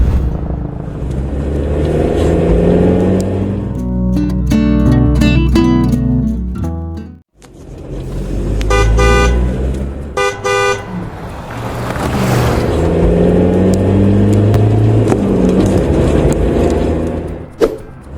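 Busy city street traffic with roads full of vehicles in an animated drama, heard as a continuous loud rumble of passing cars broken by several car horn toots and honks, with no talking.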